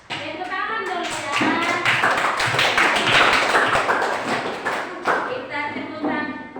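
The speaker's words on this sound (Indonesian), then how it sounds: "Kita tepuk tangan." Children clapping their hands together in a classroom during a Pancasila lesson, a dense run of fast, overlapping claps that holds steady for several seconds, loud and close, with voices mixed in.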